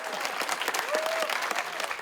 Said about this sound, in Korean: 발표가 끝나기 무섭게 뜨거운 박수가 이어집니다.